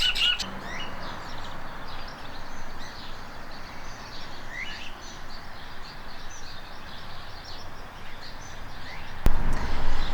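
Birds in a crowded garden aviary, a steady bed of faint chirps and tweets from many small birds mixed with outdoor ambience, continuing throughout with a brief louder bump near the end.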